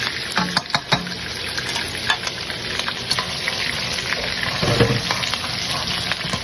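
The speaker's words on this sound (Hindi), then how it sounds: "इसमें हम पहले लहसुन डालेंगे थोड़ा, सौटे करेंगे।" Garlic and chili sizzle steadily in a hot pan while being sautéed for Chinese rice, a close, continuous frying hiss broken by light stirring and utensil clicks, with no voices.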